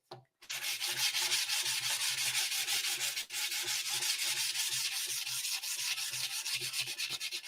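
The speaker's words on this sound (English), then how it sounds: "we're going to do some sanding" Rapid rhythmic back-and-forth rubbing of a small sanding block with 240-grit paper on a surface, close and continuous, with a short pause midway.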